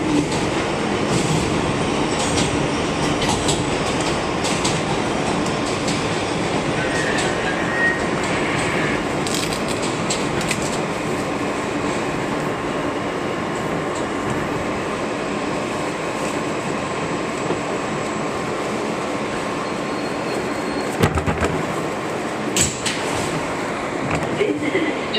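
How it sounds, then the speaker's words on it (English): An MTA R160B Alstom Q local subway train in motion, a steady loud rumble and rattle of wheels and car body continuing throughout, with a recorded announcement voice heard over the noise. "This is an Astoria Ditmars Boulevard bound Q local train."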